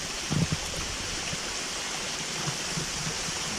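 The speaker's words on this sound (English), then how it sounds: "Not the most spectacular waterfall, but a beautiful waterfall in its own right." Hen Wallow Falls in the Smoky Mountains rushes continuously in a steady, even hiss, heard from a moderate distance, with a couple of faint knocks near the start.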